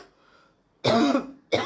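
A woman coughs twice, two loud harsh bursts close to the mic, one long and one cut short, after a quiet start.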